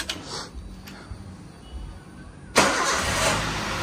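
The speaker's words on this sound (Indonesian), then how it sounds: "Nah sekarang mobilnya coba kita mau hidupkan. Nih kita hidupkan." A Toyota Avanza with a rough-running engine starts on a cool morning: a brief cranking, then the engine catches at once and settles into a loud, steady idle heard up close.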